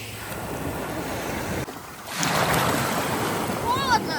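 Sea surf at Maronti Beach on Ischia, a steady broad wash of breaking waves with wind across the microphone, swelling louder midway and staying close and continuous.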